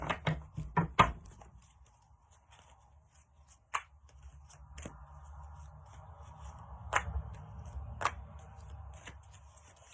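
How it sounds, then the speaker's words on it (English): Tarot cards being shuffled in a few quick riffling bursts near the start, followed by quieter slides and taps of cards on a table. "Shuffle, and then we'll pick."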